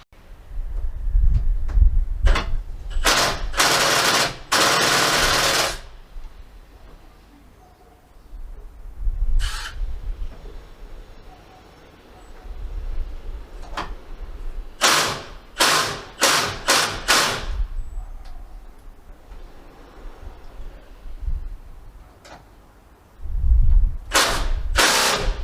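A Milwaukee M18 FID Fuel impact driver with a strange-sounding fault runs in loud, close bursts. There are three main clusters of sharp, rattling hammering, separated by quieter gaps.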